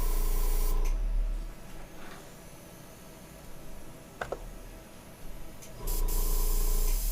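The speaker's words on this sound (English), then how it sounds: "I want you to randomly select a hole and spray paint through it." Spray paint hissing from an aerosol can through a hole while painting a 1/350 scale Polar Lights Enterprise Refit model kit, two loud steady bursts at the start and end with quieter hiss and small ticks between, no talk.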